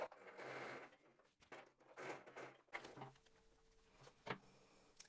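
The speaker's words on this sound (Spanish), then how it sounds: "mientras más lento puedas coser, mejor, así no estiras la tela" Sewing machine slowly stitching lingerie fabric, with short bursts of whirring needle movement broken by brief pauses and small clicks, close and fairly quiet with no talking.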